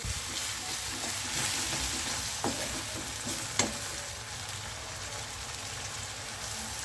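Steady oily sizzle of a pan frying, with a few soft clinks and scrapes of stirring near the middle; no voices.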